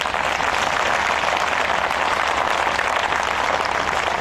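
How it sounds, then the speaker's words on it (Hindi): A crowd claps continuously and energetically, a dense, even wash of applause filling the whole stretch with no voices standing out. "अपने लिए बड़ी अच्छी ताली बजाओ।"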